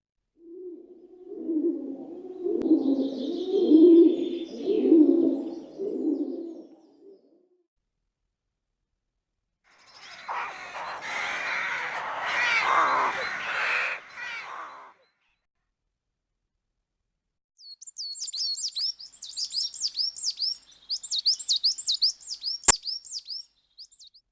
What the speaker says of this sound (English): Can you find the birds?